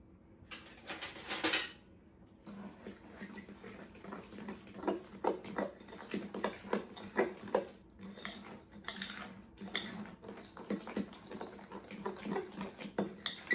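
Pancake batter with peppermint extract is stirred in a bowl, giving repeated scraping and clinking of utensil against dish, faint at first and then in an irregular, busy rhythm with no speech.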